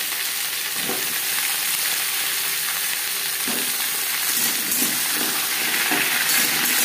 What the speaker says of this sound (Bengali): ফোড়নের সাথে পেঁপে বেশ ভালো করে মিক্স করে দেবো